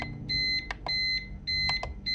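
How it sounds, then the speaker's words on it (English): A home UPS running on battery after being unplugged from the wall beeps in repeated bursts, three long tonal beep groups in about two seconds, steady and fairly close, with a low hum underneath. "It's beeping crazily for 5 minutes runtime."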